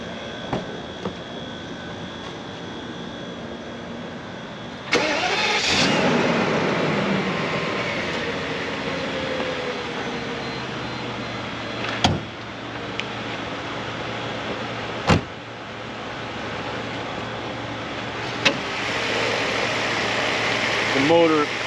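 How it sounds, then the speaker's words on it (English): A 1999 Mercedes-Benz SL600 with its V12 engine cranking to life, then settling into a steady idle, punctuated by several sharp clicks and thumps, with someone speaking at times. "Fire up the engine."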